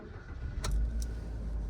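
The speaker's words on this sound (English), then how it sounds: "Now I'll start the car up so you can have a listen to the engine on it." A Suzuki engine in a Vauxhall-badged car starts, with a brief click and jangle followed by a low steady idle rumble, close and without talk.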